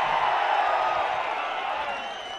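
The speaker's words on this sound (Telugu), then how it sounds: "అవునంటే గట్టిగా చప్పట్లు చెప్పండి" Dense crowd noise at a political public meeting in Ponnur, a broad wash of applause and cheering that stays steady and loud for the full stretch, fading slightly toward the end.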